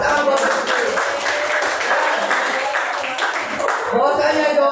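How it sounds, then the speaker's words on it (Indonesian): A classroom crowd claps in a steady burst of applause that fills the whole stretch, with voices mixed in underneath. "Tepuk tangan buat Desri."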